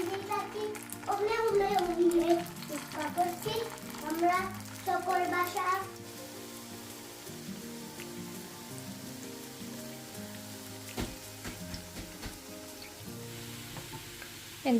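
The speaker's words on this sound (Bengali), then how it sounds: "আমি উল্টিয়ে দিয়েছি এটা অলমোস্ট ডান হয়ে গেছে আর একটুখানি আমি কড়া ভাজা করব" Fish chops fry in hot oil with a steady crackling sizzle, while someone talks over the first half and the frying continues alone afterward.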